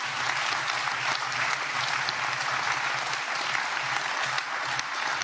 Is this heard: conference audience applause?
yes